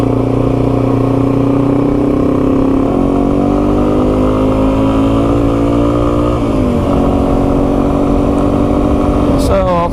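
A Yamaha TW200 dual sport motorcycle with a freshly rebuilt carburetor pulls hard while riding, its loud close engine note climbing through the gears with a shift partway through and wind rumble underneath.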